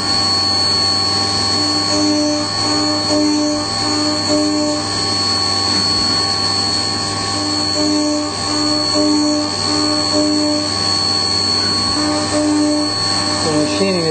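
A machine tool mills two flat areas on a transmitter balancer bracket, producing a loud, continuous whine with steady tonal hums and rhythmic cutting pulses that repeat throughout.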